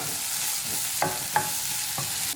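Onions softening in hot oil for a potato masala, a continuous sizzle with a few distinct scrapes and taps of a spoon stirring the pan, close and without talk.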